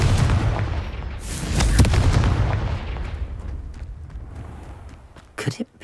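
A Confringo blasting spell explodes in the Hogwarts Legacy game, a loud booming blast with crackling debris that rolls on and fades, followed near the end by a couple of sharp bursts.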